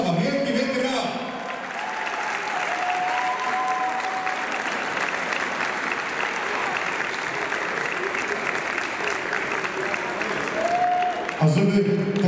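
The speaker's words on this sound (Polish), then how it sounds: "Wielki, wielki brawa!" Loud, continuous applause and crowd cheering for a regional girls' volleyball championship-winning team in a sports hall, steady for the whole stretch, with voices and whistles mixed in and a brief announcer-like voice near the end.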